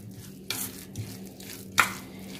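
Spiced potato samosa filling is mixed in a pan, with soft stirring scrapes, a faint sizzle, and two sharper clinks of the spoon against the metal.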